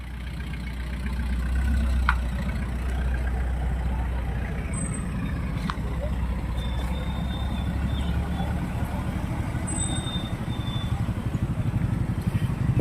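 Engines idle on Snake Road at a roadside emergency scene, a steady low rumble with traffic passing and a faint tone or two, people talking nearby.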